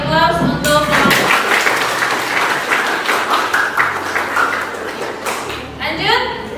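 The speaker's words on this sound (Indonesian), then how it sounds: "Beri aplaus untuk kelompok." Classroom applause for a student group at a senior high school, a steady wash of many hands clapping for several seconds, mixed with voices speaking at the start and end.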